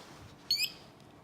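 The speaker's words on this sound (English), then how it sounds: "you heard the chirp. That's your second audible alert." One short, high electronic chirp from an MSA Firehawk M7 PASS device, sharp and brief against quiet background hiss.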